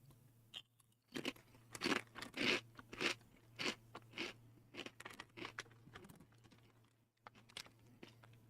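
Crunchy chips being chewed close up, a steady run of loud crisp crunches in bursts with short pauses and a brief gap before the chewing resumes.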